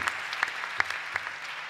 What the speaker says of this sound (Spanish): Un aplauso, yo creo que se merece esa cifra.